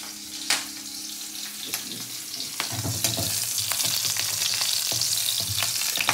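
Green chilies fry in hot oil, a continuous crackling sizzle with scattered sharp pops and stirring clicks, growing fuller and louder in the second half, no talking.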